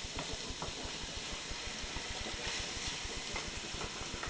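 Garlic sizzling in a hot pan, a steady broadband hiss that runs throughout over a low, regular throbbing hum, with no voices.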